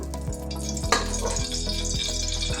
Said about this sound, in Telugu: మ్యాగ్నేట్ చేసిన నెయ్యి కొంచెం మిగిలింది కదా, నూనె వేస్తున్నాను